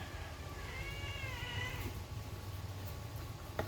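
A cat meows with a wavering, drawn-out cry partway through, over a steady low hum of background noise.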